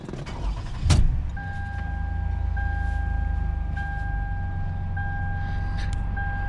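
A 2015 Lexus RX 350 engine cranks with a short loud burst, then settles into a steady, smooth idle, with a chime sounding repeatedly at regular intervals.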